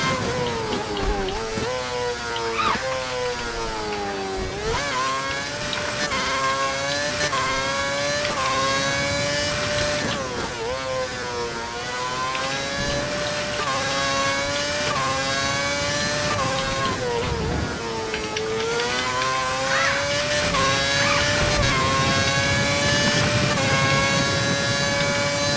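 An F1 car in the F1 2011 video game on a qualifying hot lap at Monza, its high-pitched engine screaming through rising gear sweeps, bouncing off the rev limiter down the straight and dropping sharply on braking, loud and continuous.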